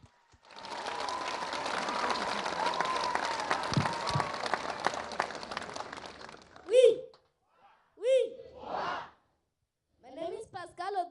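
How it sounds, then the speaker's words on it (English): Outdoor crowd applauding to welcome Pascal from Sauti Kuu in Kogelo, Kenya: dense clapping for about six seconds, then stopping, followed by a few short spoken phrases. "A round of applause for him."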